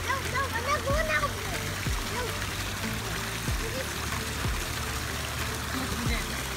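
Water from a pool waterfall splashes and trickles steadily close by, with people talking over the continuous pouring sound.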